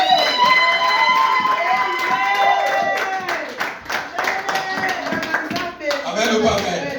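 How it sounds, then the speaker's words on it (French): A church congregation claps and cheers for Jesus, with rhythmic group clapping and shouts running continuously while a preacher's amplified voice rings over the applause. "Est-ce qu'on peut acclamer pour Jésus?"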